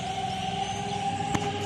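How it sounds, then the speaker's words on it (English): A civil defense siren sounds a steady attack-signal test tone, held at a constant pitch throughout with a brief click near the end and no talk. "So that starts siren test."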